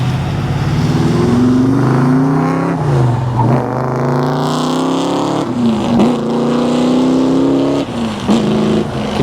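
A 1973 Plymouth Duster's engine revving, loud and close, with a deep rumbling idle that rises and falls through several throttle blips.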